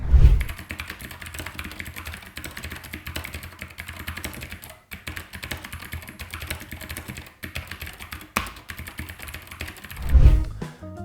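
Fast, continuous clacking of a Keychron K8 tenkeyless mechanical keyboard with clicky blue switches, loud and close, with thumps at the start and end and no talking.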